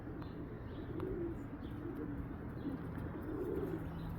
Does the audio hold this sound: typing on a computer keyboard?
no